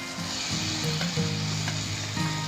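Three boiled, lightly mashed medium potatoes hitting a frying spice paste in a pan, a loud steady sizzle with stirring scrapes, heard close with no voices.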